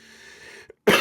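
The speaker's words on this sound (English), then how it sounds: "I hope you like all these coughs" A single sharp cough bursts out close and loud at the end, after a stretch of quiet low hum and a tiny click.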